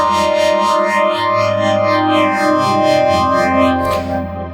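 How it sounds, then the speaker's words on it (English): Complex synth pad from a Prophet Rev-2 synthesizer run through Eventide effects, sustained and thick with sweeping, rising and falling modulated tones layered over a steady drone, loud and continuous with no voices. "it's beautiful for creating super complex pad sounds"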